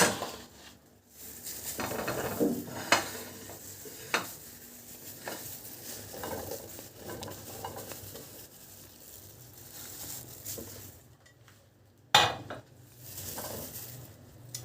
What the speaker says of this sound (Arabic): نحط الكوسه